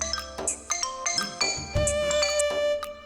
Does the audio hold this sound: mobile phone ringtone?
yes